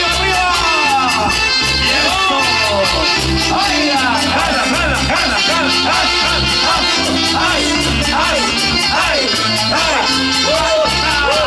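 Large outdoor crowd at a district anniversary celebration in San Clemente, Peru, cheering and whooping loudly and continuously as a Llanero Huanca performer takes the stage, with an announcer shouting over the din.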